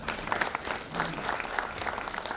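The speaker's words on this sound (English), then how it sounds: "I think the round of applause is on." Steady applause from an audience at a book launch, even and moderately loud throughout, with no talking over it.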